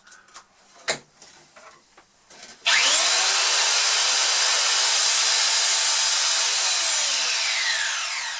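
A yellow Power Plus belt sander starts up after a few soft knocks and handling noises, then runs loud and steady with a harsh, continuous whine that holds for several seconds.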